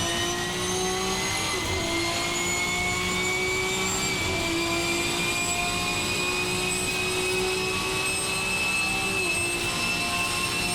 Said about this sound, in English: you're just hearing the engine change revs